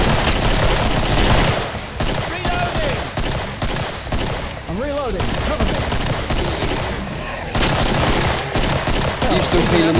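Dense gunfire fills a Killing Floor co-op match: rapid, loud shots crack close by in bursts, with brief pauses, a short lull and the clatter of combat effects.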